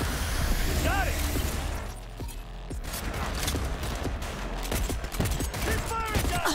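Dense, continuous gunfire from Cyberpunk 2077, with bursts and shots rattling almost nonstop under the game's mechanical and ambient noise, loud and close, with voices cutting in now and then.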